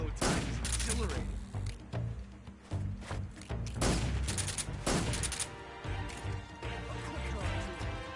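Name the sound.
gunfire from video game Metal Gear Solid 3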